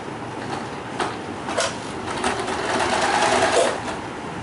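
A sewing machine stitches through satin ribbon for a doll dress, a continuous rapid mechanical whir with small clicks, steady and close, with no talk.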